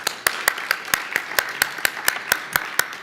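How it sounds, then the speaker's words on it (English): Audience applause after an AI conference session: sparse, evenly spaced single claps, fairly close and moderately loud, repeating steadily throughout with no crowd roar. "One more round of applause."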